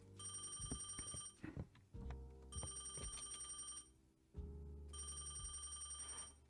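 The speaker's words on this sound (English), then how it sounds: "Better answer the phone before I leave" A telephone rings in the video game Crime or Punishment, three long bursts of a bright electronic bell separated by short pauses, with low game sounds and soft thuds underneath.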